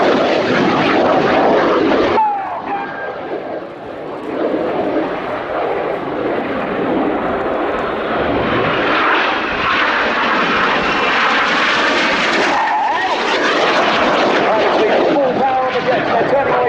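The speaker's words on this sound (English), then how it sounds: "they start descending to just 100 feet above the airfield" Red Arrows jets roar loudly over the airfield at an air show, the noise swelling and shifting as they pass about 100 feet up, with a sharp change midway.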